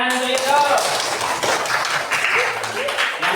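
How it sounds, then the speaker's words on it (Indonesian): Classroom clapping by students during a teaching session at an Islamic state university, scattered and uneven claps mixed with loud voices and chatter in the room. "Ya, beri tepuk tangan untuk itu."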